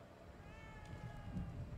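A cat meows in the horror video game The Evil Within 2, one drawn-out, gliding meow heard faintly over a low background rumble.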